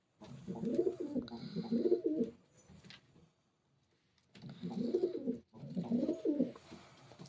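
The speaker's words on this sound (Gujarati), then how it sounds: "પીળી આંખનું કબૂતર હે." An all-white, yellow-eyed pigeon coos close by in two rounds of low, throaty rolling calls separated by a short quiet pause.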